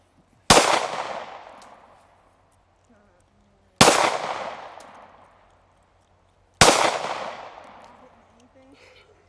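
Three single shots from a Glock 23 pistol on a range, each a sharp loud crack with a ringing decay, spaced about three seconds apart, with faint voices between.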